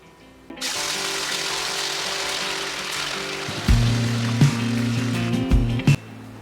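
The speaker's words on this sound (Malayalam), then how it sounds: "ഇനി ഇതുപോലെ ബാക്കിയുള്ള ചിക്കൻ കൂടി വറുത്തെടുക്കാം" Chicken pieces fry in hot oil in a pan, giving a continuous bubbling sizzle that begins abruptly, with louder clunks and scraping knocks of a utensil against the pan near the end.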